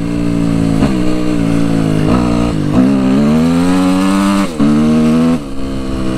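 A Suzuki RM-Z 250 motocross motorcycle engine revving loudly and close, rising and falling in pitch with several quick gear changes and brief dips in power between pulls.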